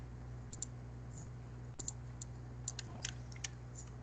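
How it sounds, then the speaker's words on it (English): Sharp clicks tap out an uneven run of keystrokes over a steady low hum, close and fairly quiet, with bursts clustering toward the end and no talking. "Let me just type it."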